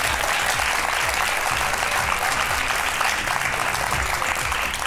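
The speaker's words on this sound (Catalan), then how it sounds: "Sí, sí, podeu aplaudir" A studio audience on a Catalan television show applauds loudly and continuously, a thick wash of clapping with no pause.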